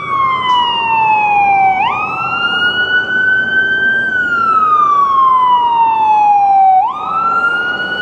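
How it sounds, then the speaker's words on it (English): An emergency vehicle siren wails loud and close on Yonge Street in Toronto, sweeping slowly up and down in a repeating cycle over a bed of traffic noise, with no voices. "Don't want to try to shout over that siren"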